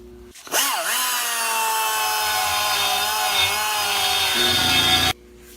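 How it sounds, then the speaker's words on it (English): A big grinder spins up with a rising whine, then holds a loud, steady, high grinding tone for about four seconds as it takes flash marks off a nude sculpture, and stops abruptly. "Here's the big grinder here for something like this, and taking off the big grinds."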